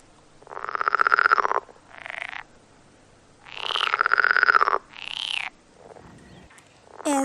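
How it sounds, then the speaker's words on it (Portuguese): A tree frog croaks in close, loud pairs: a long rasping call followed by a shorter one, repeated twice with brief quiet gaps between. "Essa é a perereca."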